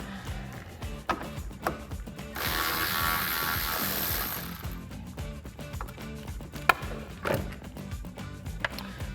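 A hand ratchet clicks in short bursts while loosening the top headlight bolt on a 2011-2016 Ford Super Duty truck, with one longer, louder stretch of fast clicking partway through.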